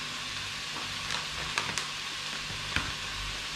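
Pork stirred in a frying pan for creamy carbonara, a steady low sizzle with a few sharp scraping clicks of the spatula against the pan, close and alone.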